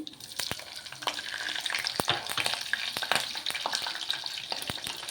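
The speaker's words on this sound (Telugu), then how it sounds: "లవంగాయలు నాలుగు ఇవి వేసుకుందామండి హోల్గర మసాలా అలాగే పచ్చిమిరపకాయ ముక్కలండి" Whole spices, four cloves and green chilli pieces frying in oil for a chicken masala curry, a continuous soft sizzle with sharp pops and crackles scattered throughout, no talking.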